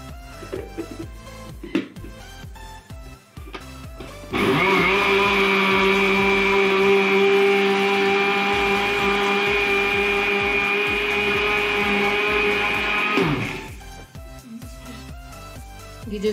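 An electric blender whirs loudly and steadily for about nine seconds as it purees strawberries and sugar into a milkshake, starting and stopping abruptly between quieter kitchen sounds.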